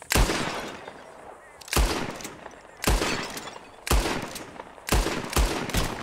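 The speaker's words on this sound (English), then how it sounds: "Whoever shoots more of these bottles wins." Five loud, sharp revolver shots hit bottles in a Red Dead Redemption 2 shooting contest, spaced about a second apart, each with a short ringing tail and no talk between.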